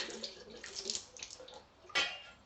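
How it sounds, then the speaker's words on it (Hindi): Warm salt water splashes and trickles in irregular bursts during rinsing, close and fairly quiet, with one sharper splash near the end. "अभी मैं इनको फिर से गर्म पानी से धो रहा हूं, थोड़ा नमक वाले पानी से"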